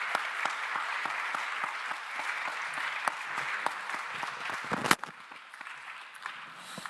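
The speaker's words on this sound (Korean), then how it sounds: "자리로 들어갈 때 다시 한번 큰 박수 부탁드립니다." A church congregation at a young adults' Sunday service claps in a sustained, even wash of applause that fills the room, then cuts off abruptly near the end, leaving a quieter tail.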